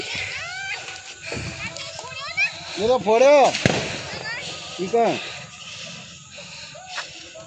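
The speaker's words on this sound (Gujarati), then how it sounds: "મરચી બોમ્બ ફોડે છે" A chilli bomb firecracker bursts during a village Diwali celebration, a sharp loud crack standing out among children's excited voices and shouts, with smaller pops and chatter around it.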